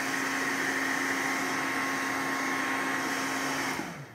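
A steady, loud electric whirring blow like a hair dryer runs continuously, then cuts off at the end as it winds down.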